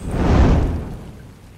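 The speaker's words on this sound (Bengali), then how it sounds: "মাঝে মাঝে শুধু মেঘের গর্জন আর বিদ্যুতের চমক।" A rumble of thunder in a story's storm scene, a single low roll that swells and slowly fades over about a second and a half, heard alone without any voice.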